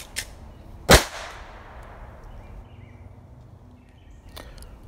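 A single sharp pistol shot cracks out loud and close during a timed handgun drill at targets, followed by a decaying echo and a faint distant report later.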